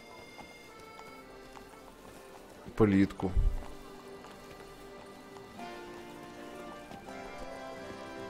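Horse hooves clip-clopping along a road in Toussaint in The Witcher 3: Blood and Wine: a brief cluster of loud hoof strikes midway, then softer steps under a steady game background, with someone speaking briefly.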